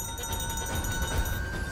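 A bell rings continuously in a sustained, steady tone with a faint metallic buzz, close and fairly loud, lasting the whole short stretch without talk.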